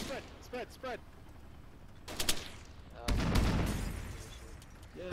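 A grenade explosion and gunfire in the Arma 3 military video game: a few sharp shots and a loud burst, then a heavy, rumbling blast with a long decay, while voices shout over the action.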